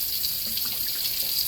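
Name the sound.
tap water filling sink with dishwater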